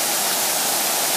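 Water fountains in a park at night give off a steady hissing rush of falling spray, close and continuous with no voices over it.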